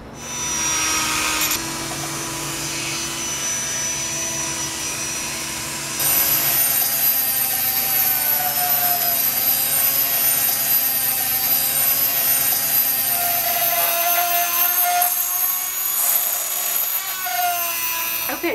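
A power drill bores a hole through a ceramic coffee mug, giving a continuous loud whining grind with a shift in pitch partway through and no talking.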